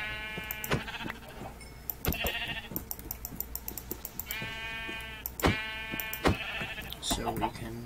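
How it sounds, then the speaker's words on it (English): Minecraft sheep bleat in repeated short harmonic calls amid game sounds, with a player talking over them at moderate level. "Here's some sheep."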